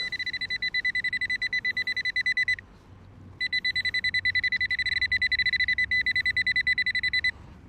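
A metal detector pinpointer beeps in rapid, steady pulses while probing a hole among oak tree roots, close and loud, with a pause of about a second before the pulsing resumes.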